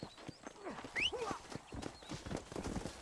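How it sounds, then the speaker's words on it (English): Horse hooves clip-clopping at speed in the video game Red Dead Redemption, a steady run of hoofbeats with a brief whinny, mixed with game ambience and faint voice-like sounds. "Damn, it's running so fast, this horse."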